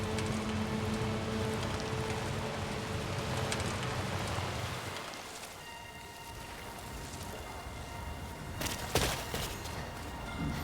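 Timefall rain in Death Stranding 2, a dense, steady downpour hissing and pattering on surfaces, easing briefly midway before returning with a few sharper splashes.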